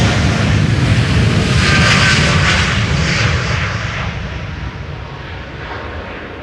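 A TUI jet airliner, flight to Willemstad, Curaçao, departs runway 36L Polderbaan at Amsterdam Schiphol, a loud broadband engine roar that holds steady and then slowly fades as the aircraft climbs away.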